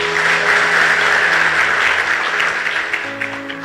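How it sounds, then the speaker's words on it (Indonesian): A church congregation claps together in sustained applause that fades slightly toward the end, with a faint tonal hum underneath. "Kasih tepuk tangan."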